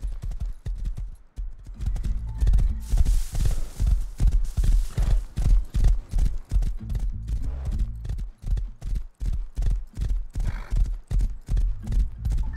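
Galloping horse hooves in the Rust survival video game, a steady rapid clip-clop rhythm that runs loud and close throughout with a brief whinny partway through, no talk.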